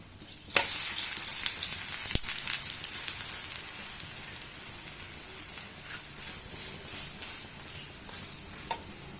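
Payar dosa (green gram dosa) frying on an oiled pan, a steady close crackling sizzle with a sharp clatter near the start and brief spikes throughout, no voices.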